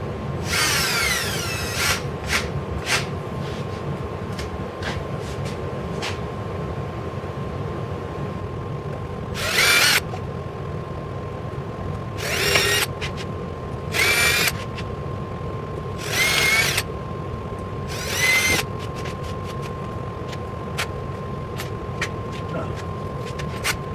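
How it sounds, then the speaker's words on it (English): Several short, whirring bursts of a power drill with a 1/8 inch bit pre-drilling holes in wood, spaced a few seconds apart over a quiet background. "just take and pre-drill some holes."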